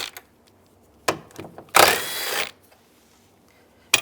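A 10mm socket turns the mirror mounting nuts on a 2002-2009 Chevy Trailblazer door, giving a few short ratcheting bursts and a longer close, harsh metallic whir, with quiet gaps in between.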